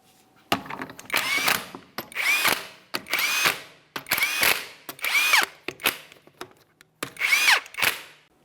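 A power tool tightening the 22 mm lug nuts on a GMC Acadia wheel: seven loud, close whirring bursts of around a second each, rising in pitch and ending in clunks, with short pauses between them.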